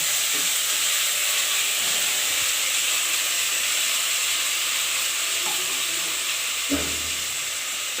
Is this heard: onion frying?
yes